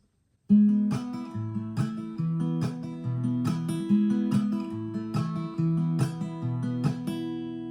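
An acoustic guitar plays a steady chord progression without hammer-ons or pull-offs, each chord strummed or picked cleanly with regular attacks, close and clear with no voices.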